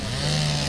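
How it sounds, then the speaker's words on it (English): A chainsaw runs during tornado cleanup of downed trees, a loud, steady engine whine with a sustained buzzing drone, heard briefly and up close without talk. "the sound of chainsaws filled the air as residents began cleaning up"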